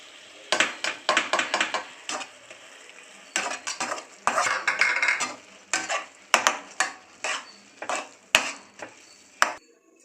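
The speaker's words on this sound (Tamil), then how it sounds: "இப்போ வந்து நம்ம இதில் போட்டு கிண்டிக்கலாம்" A spoon stirs salt, chili powder and turmeric into a prawn mixture in a pan, producing a series of sharp scraping and clinking strokes in an irregular rhythm with a faint sizzle between them, close and clear.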